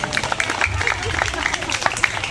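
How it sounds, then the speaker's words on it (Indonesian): Children and adults at a mosque gathering clap together, a brief, fairly dense burst of scattered hand claps with crowd murmur and some voices mixed in. "Tepuk tangan dong buat adik-adik nih semuanya."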